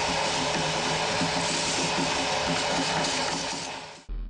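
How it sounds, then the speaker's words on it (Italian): Loud, steady roaring suction of a vacuum hose pulling up wood chips, a continuous rushing drone that cuts off abruptly near the end. "Controlliamo e puliamo i trucioli con l'aspirapolvere."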